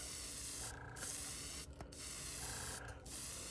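An airbrush with a 0.2 mm nozzle sprays high-flow white paint onto fishing lures in three short hissing bursts, close and soft, with brief pauses between them and no one speaking.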